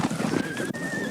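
A horse whinnies with a long rising neigh while hooves clip-clop steadily nearby, recorded outdoors among herders on the edge of the Gobi in Mongolia.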